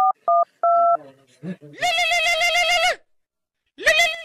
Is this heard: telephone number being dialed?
yes